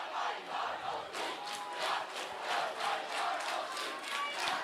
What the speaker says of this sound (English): crowd getting going, shaking the press box up here